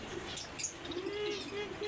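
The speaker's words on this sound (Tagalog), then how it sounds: "So, mga ibon." Birds at a pet market in Kuwait, including pigeon-like doves, chirp and tweet continuously, with low cooing notes underneath and a faint murmur of voices in the background.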